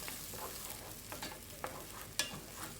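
Egg and bell pepper stirred in a frying pan, a steady soft sizzle broken by light scraping strokes and one sharper clack near the end.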